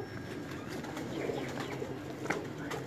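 Low, soft cooing of a Batera pigeon, an aged bird with creased feathers among fancy pigeons in a Lahore loft, steady and murmuring over a busy background hum, with faint chirps.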